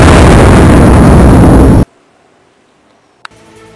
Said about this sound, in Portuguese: Vou te matar, lançar uma granada, tu vai explodir.